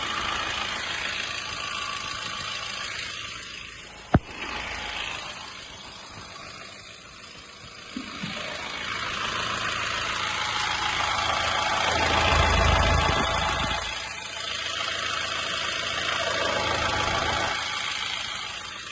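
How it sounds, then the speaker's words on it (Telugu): A 2016 Honda Mobilio engine idles steadily with a low mechanical rumble, a sharp click near the start, and slight swells in the drone. "ఇంజన్ కూడా చూసుకోండి"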